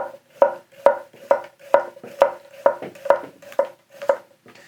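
Hatsukokoro Kurouchi Birch gyuto knife slicing thin slices on a cutting board: about nine sharp, evenly spaced chops with a steady rhythm, close and clear, no talking.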